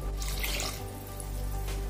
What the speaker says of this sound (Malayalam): ഒരു ശകലം വെള്ളം കൂടെ ഒഴിച്ചു കൊടുക്കാം